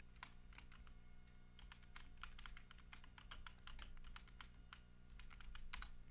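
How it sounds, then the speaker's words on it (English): Fingers tap on a new computer keyboard in an irregular stream of quick, crisp clicks, close to the microphone over a low steady hum, with no talking. "New keyboard. I'm taking me a hell of a long time to get used to it."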